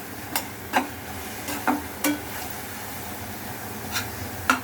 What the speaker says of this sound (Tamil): இந்த இஞ்சி பூண்டு பேஸ்ட் வந்து வதங்கணும்